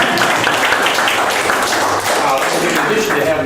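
Audience applauding at a ribbon cutting for the Briggs House, a dense, steady patter of many hands clapping throughout, with a voice faintly mixed in.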